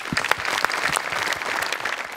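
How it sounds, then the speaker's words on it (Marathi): Studio audience applause for Sony Marathi on a Marathi comedy stage show, a steady burst of dense clapping at close range with no talk over it. "सोनी मराठीसाठी जोरदार टाळ्या"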